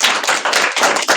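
A small audience claps at the close of a car maintenance demonstration session, a short burst of several quick overlapping claps, fairly loud and close, with no talking.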